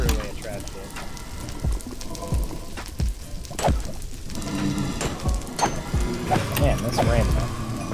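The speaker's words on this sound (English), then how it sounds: "Man, this rain, man." Rain falling in Minecraft, a continuous patter of drops on surfaces under several people talking over one another, with scattered clicks and game sounds.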